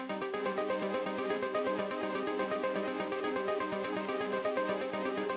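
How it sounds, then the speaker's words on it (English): Noisy arpeggio synth built in Serum, a fast, evenly pulsing run of bright, gritty notes repeating steadily at moderate volume with no voices. "The noisy arp is made in Serum and it sounds like this."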